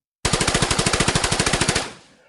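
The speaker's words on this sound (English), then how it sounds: "she's going to shoot at him" Machine gun fire used as a sound effect in a Gaslands tabletop car combat game rips out as a single loud, rapid burst of about twenty evenly spaced shots, then trails off into a short echo.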